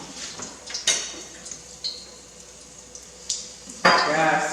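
Eggs for fried rice cooking in a pan, with soft sizzling under scattered clinks and scrapes of a utensil against cookware, and a louder burst of sizzle near the end.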